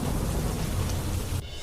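Heavy monsoon rain in Deesa, Banaskantha, Gujarat pours as a loud, unbroken hiss, dropping off abruptly just before the end.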